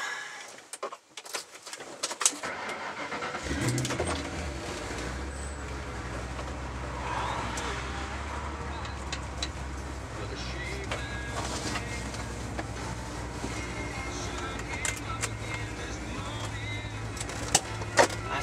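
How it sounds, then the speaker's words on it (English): A 1995 Ford Mustang Cobra on the road: a steady low engine drone and exhaust note holds throughout, with road and wind noise around it and occasional clicks and knocks. "Nice little drive in the Cobra."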